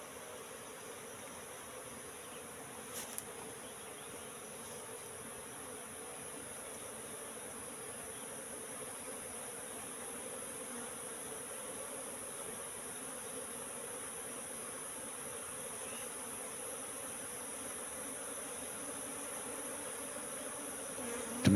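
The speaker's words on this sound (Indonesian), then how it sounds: "lebah-lebah yang ada di tempat saya pasti akan masuk ke mengikuti ratunya ini" A swarm of wild Apis cerana bees produces a steady, dense buzzing hum that holds evenly throughout, close and unbroken, with no voices.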